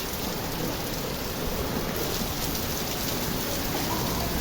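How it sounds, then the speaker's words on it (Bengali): A heavy monsoon downpour pounds outside the Agargaon meteorological office, a dense, unbroken roar of rain that stays loud and even from start to finish with no voices. "অনেক মুষলধারে বৃষ্টি হচ্ছে, মুষলধারে বৃষ্টি হচ্ছে এখন।"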